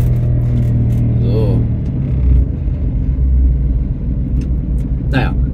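A Piaggio Ape 50 three-wheeler's small engine drones steadily while cruising straight along a flat road, a loud continuous close rumble with no breaks.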